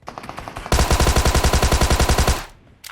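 Rapid automatic gunfire in PUBG Mobile hitting the player's vehicle, a loud, evenly spaced burst of about twenty shots lasting nearly two seconds after a quieter stretch of distant fire, no talk.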